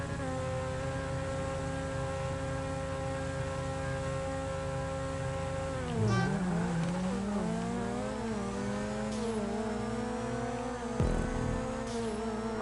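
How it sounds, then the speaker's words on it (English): A car engine idles at a speedway with a steady, buzzing harmonic drone, then the revs dip and climb again in a quick blip, with a faint whine high above it throughout. "I like the way this car sounds."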